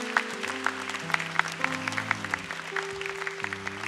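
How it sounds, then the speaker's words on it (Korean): A standing church congregation claps for graduates at a completion ceremony during Sunday worship, with brisk, regular claps over sustained keyboard chords. "저기 계신 모든 분들 우리 한번 일어서시면 우리 박수 한번 할까요?"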